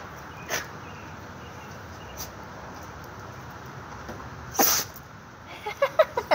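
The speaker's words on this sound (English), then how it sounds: "You sneezed." A Chihuahua and terrier mix dog gives a couple of short, sharp sneezes in a quiet room, followed near the end by a quick run of soft snorting puffs.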